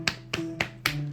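Four crisp claps in a played-back pop song recording, evenly spaced about a quarter second apart, sharp and bright over a steady musical backing.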